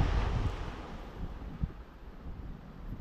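Wind buffets a microphone at sea in blustery, choppy weather, a dense low rumble that is strongest at the start, with faint water and boat noise beneath and no talking.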